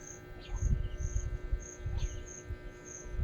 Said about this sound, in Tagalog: Paminawa anak ang langgam na sa atop anak.